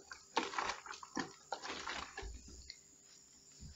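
A bottle of liquid laundry perfume is shaken by hand up close, its contents sloshing in several quick bursts before settling into softer swishes.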